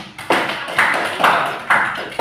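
An audience in a discussion session claps hands in a few loose bursts, close and sharp, at a slow uneven rhythm.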